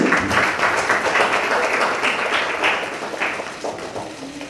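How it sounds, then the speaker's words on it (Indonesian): A crowd at an Indonesian political party event backing a gubernatorial ticket claps steadily, a dense wash of many hands that holds throughout and tapers slightly near the end. "kita berikan tepuk tangan sekali lagi"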